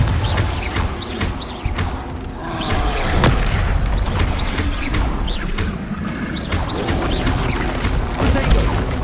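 Confringo explosive spells are cast in the Hogwarts Legacy video game, with repeated booming blasts and crashes during loud, busy combat while voices shout over the action.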